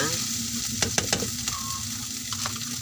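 Vegetables for ginataang gulay sauté in a pan with a steady, close sizzle and frying crackle, with a few soft clinks of stirring over it.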